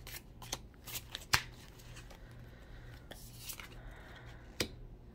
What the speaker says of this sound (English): These cards are a little stiff, which is good, but also hard to shuffle